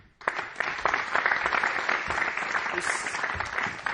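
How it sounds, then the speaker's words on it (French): Audience at an evening event applauding the Mauritian Kyokushinkai karate federation, a burst of clapping from a modest crowd that starts abruptly and carries on at moderate volume, with some sharper individual claps standing out. "je demande d'applaudir la Fédération mauricienne de Kyokushinkai"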